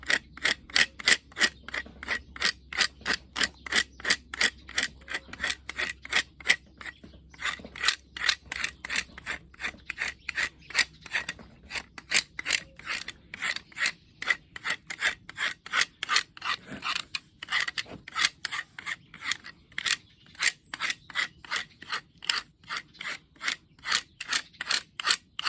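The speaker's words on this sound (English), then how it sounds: "you can use a normal butter knife or the back of a saw to just scrape it off" A knife or the back of a saw scrapes bark from a Christmas tree branch in steady, rhythmic strokes about twice a second, a dry rasp close up and alone for the whole stretch.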